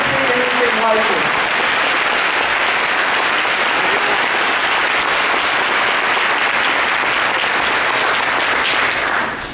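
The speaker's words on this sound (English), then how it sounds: "Can you give them a big round of applause?" Sustained audience applause fills a mosque during an open mosque day, loud, dense and steady throughout, with a brief voice at the start, fading slightly at the very end.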